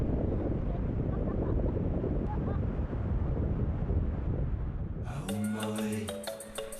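Surf rolling onto a Madagascar seashore with strong wind buffeting the microphone, a steady, loud roar that carries on for several seconds before fading under other sounds near the end.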